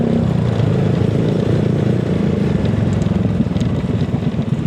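A sport adventure motorcycle rides a rural road toward Port Barton in San Vicente, its engine a loud, steady close drone with a rough clattering texture throughout and no talk.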